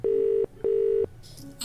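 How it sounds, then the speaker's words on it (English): A telephone dial tone in a mystery video game plays as two steady, loud tones, each about 0.4 seconds long with a short gap between them, followed by faint ambient game sound. "Oh, we have a dial tone."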